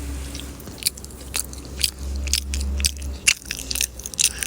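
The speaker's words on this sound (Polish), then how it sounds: "Nie mlaskaj, będę mlaskać." Wet chewing and biting with crunchy, scraping mouth sounds, close up and fairly loud, in irregular bursts over a steady low hum, with no talking.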